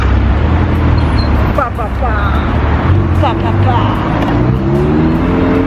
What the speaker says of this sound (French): Encore une voiture.